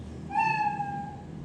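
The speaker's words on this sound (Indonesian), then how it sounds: "Oh, saya mau pakai suara kucing ini, mau pakai meow." A single cartoonish cat meow sound effect played in the Scratch programming tool, one clear, drawn-out meow lasting about a second, alone against a faint background hum.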